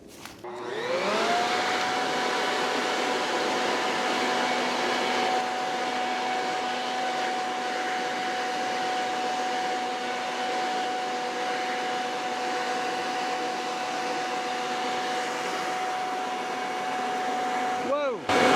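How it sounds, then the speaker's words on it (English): An electric leaf blower fitted with a long gutter-cleaning extension tube spins up and then holds a loud, steady whining roar with a sustained tonal hum, running close by without pause. "So we'll use the electric blower now and see how that does."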